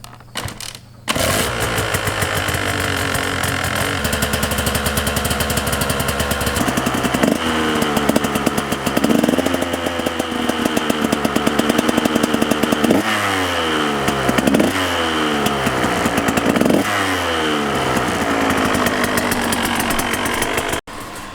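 A two-stroke dirt bike engine starts and runs close by, a loud buzzing idle that repeatedly revs up and drops back in rising and falling sweeps before cutting off.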